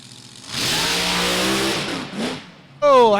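A drag racing car launches down the strip with a loud, sustained engine roar that fades out, then another engine note bursts in close at the end.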